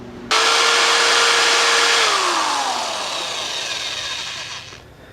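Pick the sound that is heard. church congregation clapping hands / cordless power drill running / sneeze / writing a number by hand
cordless power drill running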